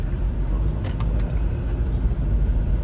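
Traffic on a Cebu City street makes a steady, loud low rumble of car and motor engines. A few faint clicks come through on top, and there is no talking.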